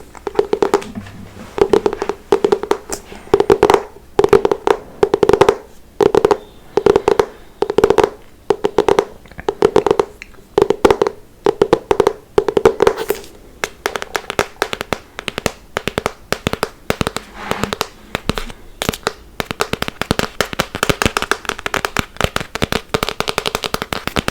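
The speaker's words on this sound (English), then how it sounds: "I think the spine of the books have the best sound ever when you tap on them." Fingers tap rapidly on the spines of hardcover books in close, crisp, hollow bursts, fast rhythmic flurries repeating with brief pauses across about twenty-four seconds, loud and near with no speech.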